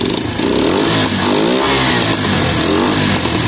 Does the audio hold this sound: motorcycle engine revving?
yes